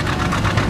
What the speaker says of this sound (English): here's a Waterloo steam engine here